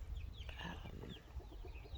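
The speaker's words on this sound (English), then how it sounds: "I don't know if you can see my baby chickens down there" Chickens on a homestead garden cluck and chirp softly against a steady outdoor background, with scattered short calls continuing throughout and no talking.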